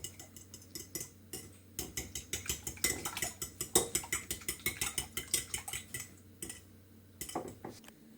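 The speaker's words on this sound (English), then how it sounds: "So now we're going to beat the eggs" A fork beats eggs in a bowl with rapid, rhythmic clinks and scrapes, a quick run of sharp taps that pauses briefly and then resumes, close and fairly quiet, with no speech.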